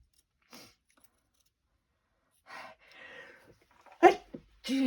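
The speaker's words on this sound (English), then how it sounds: "I've got the sneezes, everything's happening." Sparse, quiet moments with a few short breathy bursts, then a sharp sudden sneeze near the end followed by a brief vocal sound.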